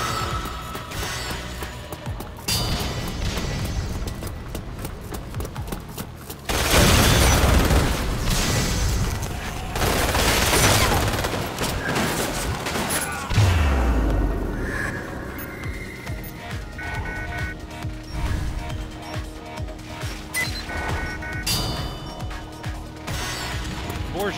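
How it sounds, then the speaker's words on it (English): Resident Evil Umbrella Corps multiplayer combat on the Lanshiang map, with loud grenade blasts and bursts of rapid gunfire mixed with mechanical clicks, and heavy booms rising and falling throughout. "Time to throw grenades on the point."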